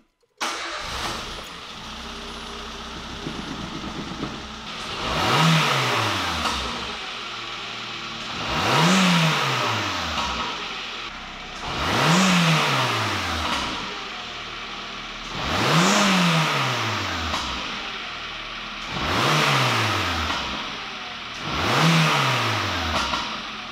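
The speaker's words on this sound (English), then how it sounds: "Let's start the car." Peugeot 206 engine starting after an O2 sensor replacement, then running with a series of about six rising and falling revs, close and loud with no talking.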